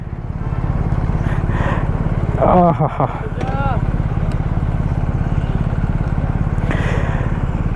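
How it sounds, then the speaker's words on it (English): A Kawasaki Ninja 1000 SX with an inline-four engine runs close and loud in a smooth, even idle, while a voice speaks briefly over it. "Oh wow, the bike is on. Extremely smooth here, inline 4."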